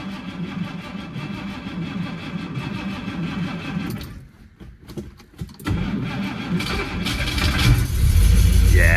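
A supercharged 1961 Studebaker Hawk engine cranks roughly, pauses briefly, then catches and settles into a loud, steady running rumble close by.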